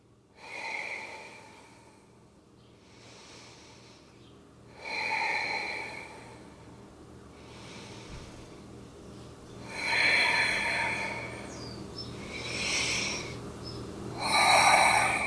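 Slow, deep breathing during a gentle restorative yoga pose, several long audible inhales and exhales with soft nasal snorting, close and fairly loud, spaced a few seconds apart, with no talking.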